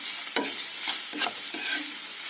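Onions frying with added salt in a pan, a close bright sizzle punctuated by several quick stirring scrapes.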